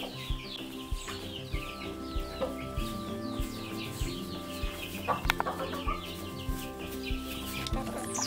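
Young chickens and cockerels, including naked-neck birds and Rhode Island pullets, cluck steadily and attempt crowing, with a dense, continuous chorus of calls close by throughout and no one talking.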